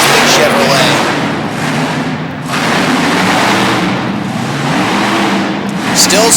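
Big Chevrolet monster truck engine driven by Wayne Solly at a Harrisburg, PA monster truck show, roaring loud and steady as it speeds up, with broadband rumble dipping briefly twice amid arena noise.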